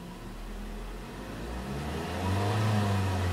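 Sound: 2011 Ford Focus SE engine revving

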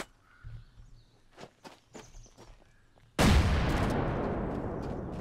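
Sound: grenade explosions from the video game Rust

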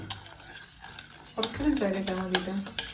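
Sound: spoon stirring sugar into tea

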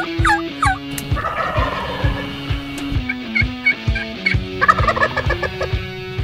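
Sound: Osceola wild turkey gobbling

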